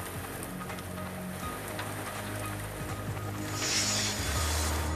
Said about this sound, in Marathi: काही ठिकाणी रिमझिम तर काही ठिकाणी पावसाच्या जोरदार सरी कोसळत असल्यानं सखल भागात पाणी साचलंय